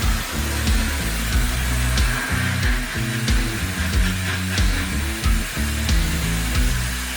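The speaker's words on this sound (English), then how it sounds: "you can see kind of the areas where I've oversprayed with the blast gun here and it's already starting to remove that paint" A blast gun stripping paint from a Honda 250R part gives a steady, loud hiss of rushing air and grit, with a low compressor drone and faint ticking beneath it throughout.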